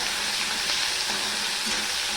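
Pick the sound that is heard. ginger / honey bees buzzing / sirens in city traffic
ginger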